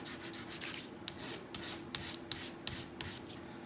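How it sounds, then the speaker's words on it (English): Sandpaper rubs a small wooden part of a toy spring chick in a series of short back-and-forth strokes, close and moderately loud, with no talking. "So I'm just going to sand that now. Let's give it a sand again."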